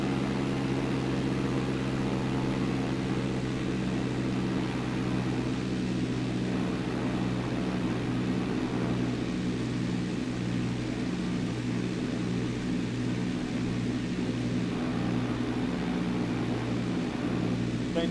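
Airplane engine drone in a flight simulator game, a steady, loud, tonal hum that holds constant with slight wavering throughout and has no other sounds over it.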